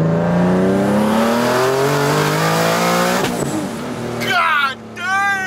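A turbocharged Nissan 370Z making over 500 horsepower roars loudly under hard acceleration, its pitch climbing through the rev range before easing off, with excited voices shouting over the engine near the end.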